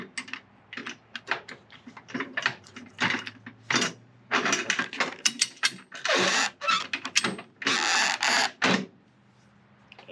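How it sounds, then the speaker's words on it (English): A ratcheting winch bar cranks a flatbed truck winch, giving rapid bursts of metallic clicks in irregular runs with brief pauses, loud and close with no talk. "you would take the ratcheting end and insert it into the winch, and you would secure it with this pin"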